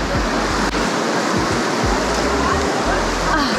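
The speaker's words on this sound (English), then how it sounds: "Almost got carried away by the river, the blue river." Rushing blue river water near Rincon de la Vieja volcano in Costa Rica roars loud and constant, a dense close torrent with wind buffeting the microphone.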